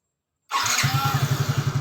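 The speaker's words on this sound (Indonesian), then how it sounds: "Kemudian kita coba untuk nyalakan motor lagi." A Yamaha Mio J scooter engine cranks and catches, settling quickly into a fast, steady putter at idle, close and loud.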